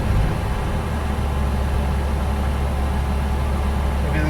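A vehicle engine runs at slightly raised RPM while warming up and cooling off, a loud, steady mechanical hum with a constant rumble and no noticeable change in pace.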